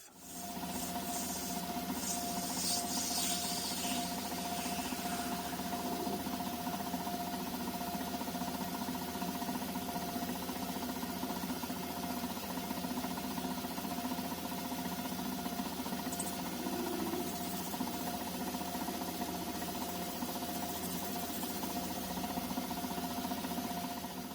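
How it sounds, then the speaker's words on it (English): A lathe turning a brass knob in a workshop produces a steady, continuous whirring hum with a faint scraping rasp of cutting, moderately quiet and unbroken with no speech. "So I'm going to get about turning something out of this on the lathe."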